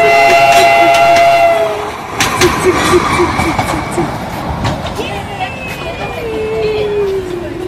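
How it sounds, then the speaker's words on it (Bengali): A Darjeeling train passes nearby, opening with a loud sustained horn and then settling into a rumbling, rattling roll of wagons, with voices chatting over it. "এই যে ট্রেন কামিং"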